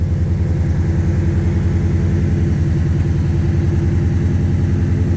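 A Ford Raptor truck's engine runs close by with a steady, throbbing low rumble, loud and even throughout, with no voices.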